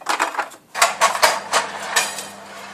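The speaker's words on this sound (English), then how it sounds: "I'm going to pop those on the lower rack in the oven for about 30 minutes." Drumsticks on a metal tray being slid onto the lower oven rack, a cluster of clattering metallic scrapes and clanks in quick irregular succession, close and fairly loud.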